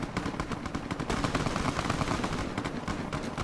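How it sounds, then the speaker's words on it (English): Continuous gunfire from NCR soldiers and Legion fighters in the game Fallout: Tale of Two Wastelands, Mojave Wasteland combat with a Gauss rifle in use; dense, rapid overlapping shots and bursts run steadily throughout at moderate loudness. "I think the NCR soldiers shooting at these legionaries"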